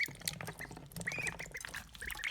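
Several ducks quack and squawk softly in short scattered bursts, with faint splashy, liquid background noise.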